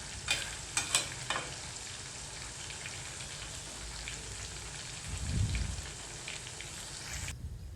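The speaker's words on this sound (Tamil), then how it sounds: "நல்லா கமகமன்னு பொறிஞ்சி வருதுங்க மொறு மொறுன்னு" Steady crackling sizzle of chicken pakoda deep frying in hot oil, continuous throughout, with a few sharper pops near the start and a brief low thump midway.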